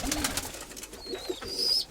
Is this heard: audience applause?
no